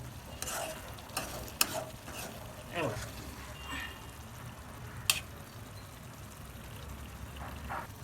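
Chicken liver fry stirred gently in a pan, a soft sizzle running steadily beneath intermittent scraping strokes and a couple of sharp utensil clicks against the pan, close by.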